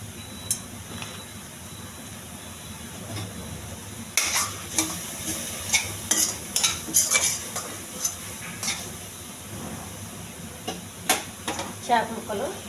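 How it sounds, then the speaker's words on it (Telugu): Curry leaves and green chilies stirred in a dry pan, a utensil scraping and clinking in a steady series of strokes over a faint background sizzle, close and moderately loud. "కరివేపాకు కొంచెం బాగా వేగించాలి"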